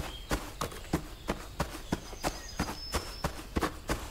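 Footsteps in the horror game REVEIL that sound like horse hooves, a steady series of sharp clip-clop impacts, close and evenly spaced, about three per second, with no talking.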